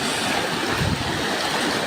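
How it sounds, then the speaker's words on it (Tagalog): Floodwater from an overflowing river rushing over a bridge in Samang Norte, Bolinao, Pangasinan, during heavy rain, a loud continuous roaring wash of water with no voices. "Umapaw na ang tubig sa tulay na ito sa barangay Samang Norte sa Bolinao"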